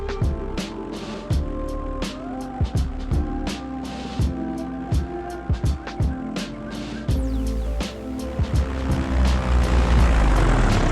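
A paramotor's engine and propeller drone steadily through a landing approach on a cross-country flight, loud and close, with repeated sharp bursts of throttle changes and a rising roar of wind and engine toward the end.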